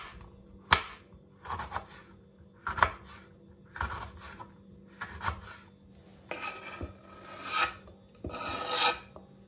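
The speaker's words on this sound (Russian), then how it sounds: "Морковь натереть на крупной терке." A carrot scraped against a coarse grater in about eight rhythmic rasping strokes, close and alone, each stroke growing slightly longer.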